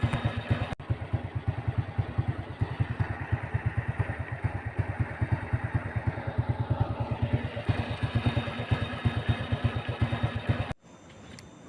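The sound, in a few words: motorcycle engine idling after carburetor replacement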